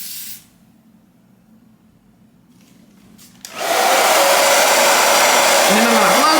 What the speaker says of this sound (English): And then I'm gonna blow dry.